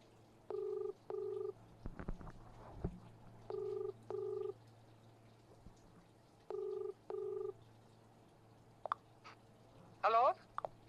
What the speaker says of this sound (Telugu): కాల్ రింగ్ అవుతోంది.